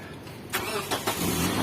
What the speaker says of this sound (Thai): จะสตาร์ทเครื่องเลย